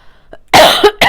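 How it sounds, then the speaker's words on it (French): A couple of sharp, loud coughs right up close, the first long and harsh, followed by a short second burst after a tiny pause. "Excusez-moi, je tousse dans le micro, c'est pas agréable."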